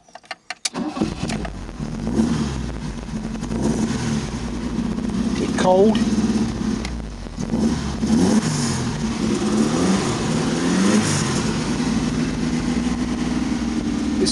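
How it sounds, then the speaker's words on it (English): Boxer engine of an Alfa Romeo Sprint Trofeo revving up close, a continuous throaty roar that rises and falls across the whole stretch, with a voice speaking briefly over it. "boxer engine"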